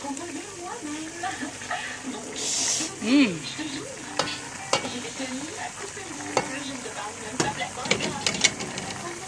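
Okra added to a simmering sauce and stirred, soft sizzling with scraping stir strokes and a few clinks, faint and intermittent, a voice talking over it.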